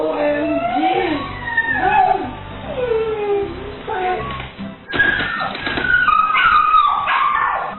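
A dog whines and howls in long, rising and falling cries, with a voice and other sound running beneath it throughout.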